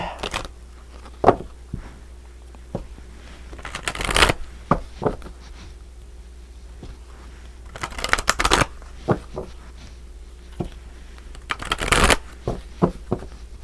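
Tarot and animal cards shuffled and drawn during a reading; crisp riffling bursts and soft card slaps recur at intervals over a low steady hum, close and without talk.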